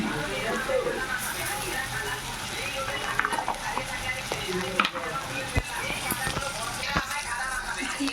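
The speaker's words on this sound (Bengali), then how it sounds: "একটু জিরে ভেজে দিলাম" Cumin seeds frying in hot oil with onion, ginger and garlic paste for a Bengali prawn malai curry, a continuous close sizzle with crackles and sharp utensil clicks as the pan is stirred.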